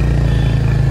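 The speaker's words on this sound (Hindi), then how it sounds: "इसे ऐसे करोगे बाइक हो जाएगी अपनी स्टार्ट।" A Royal Enfield Hunter 350 motorcycle engine idles steadily after starting, a loud, even low thump with a mechanical clatter running through the full second.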